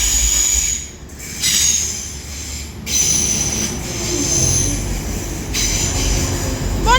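A double-headed Transpennine Express Class 185 diesel unit passes through Deansgate station, loud and close, with a steady rolling roar, wheel squeal and rail noise carrying on throughout.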